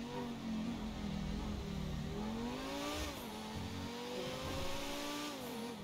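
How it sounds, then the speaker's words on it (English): Turbocharged supercar in Grand Theft Auto V, engine droning and revving steadily with pitch rising and dipping as it accelerates and shifts, loud and continuous, with a faint hint of tire noise and no talk. "I like the sound of that turbo though."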